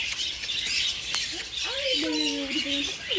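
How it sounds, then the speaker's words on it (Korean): A budgerigar squawks at a parrot farm, giving a few short, strained calls amid the constant chatter of many small birds in an aviary. "얘는 잉꼬고."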